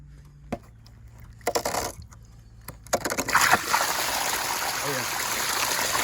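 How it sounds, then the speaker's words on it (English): Dirty water drains from a loosened pool filter housing, a steady rushing splash that swells after a few brief clunks and knocks and then runs continuously and close by. "we're going to be draining the bad water that's in there"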